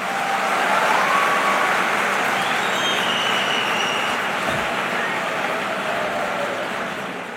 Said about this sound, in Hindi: देखो, ताली बजाई है तुमने